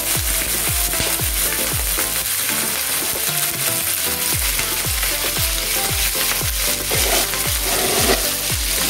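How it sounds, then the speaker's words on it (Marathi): Green chillies fry in hot oil for a chili thecha, making a steady, loud sizzle and spatter throughout, with regular scraping strokes of a spatula against the pan. "आणि या हिरव्या मिरच्या टाकून द्यायच्यात"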